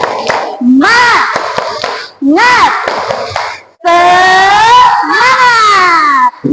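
Children in a classroom chant an ice-breaking clapping rhythm together, their sung voices rising and falling in short repeated phrases with hand claps mixed in, loud and close.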